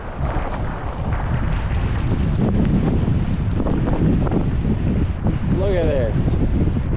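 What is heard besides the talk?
strong winter wind over a lake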